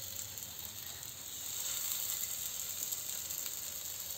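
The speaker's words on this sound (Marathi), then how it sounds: "तेल गरम झालं असेल त्यावरती आता आपण फिश शॅलो फ्राय करता" Fish shallow frying in a little hot oil on a tawa pan, a steady close sizzle and hiss that grows a bit stronger partway through, with no voices.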